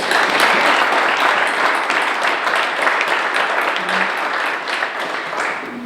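Audience applause fills a county State of the County morning session: dense, steady clapping from a large crowd, sustained throughout and tapering slightly toward the end.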